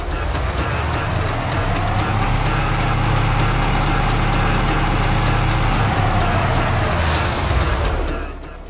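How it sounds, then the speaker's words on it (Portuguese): A heavy truck engine in Farming Simulator 22 revs and accelerates with a loud, steady low rumble that holds for several seconds, then cuts off with a brief hiss. "O som dele é da hora, eu gostei do som do caminhão."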